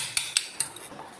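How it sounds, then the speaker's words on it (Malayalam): Eggs being mixed with salt and pepper in a bowl, with a utensil striking the bowl in three sharp clinks followed by softer scraping. "എന്നിട്ട് നല്ലോണം ഒന്ന് മിക്സ് ചെയ്തെടുക്കാം."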